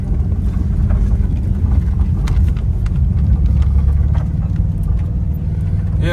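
A VW Vanagon Synchro crawls off-road in granny gear on an off-camber trail, its engine a loud, steady low rumble with wind buffeting and faint bumps throughout.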